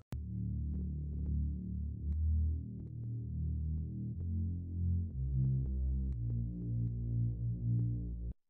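A deep synth bass line in a music production arrangement plays alone: a run of sustained low notes that step between pitches in a steady, looping pattern, with no talking.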